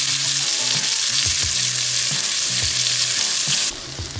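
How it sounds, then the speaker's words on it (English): Onions frying in a hot pan for a smoky feta salad, a loud steady sizzle throughout with faint clicks of movement, no talk. "Now we're gonna throw those onions on there too."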